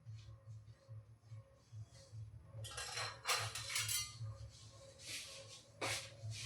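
Mustard seeds dry-roasting in a hot kadhai for red chilli pickle, heard as scattered metallic scrapes and clinks of stirring over a steady low hum, with brighter clattering bursts in the second half.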